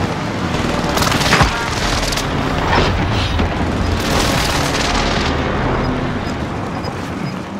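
A video game airstrike in a battle royale match hits the ground as a string of heavy booms and blasts, loud and close, rolling over a continuous roar with no talk.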